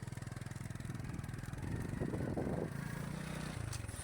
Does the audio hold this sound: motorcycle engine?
yes